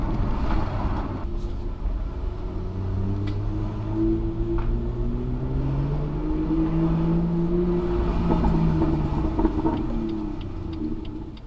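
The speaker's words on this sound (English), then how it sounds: "You want to be able to hear the sound of your car most of the time, and that's not coming from the speakers." A BMW M2 with the N55 engine drives through town, its engine a steady low rumble inside the cabin with slowly rising and falling tones as revs change, continuous and fairly loud.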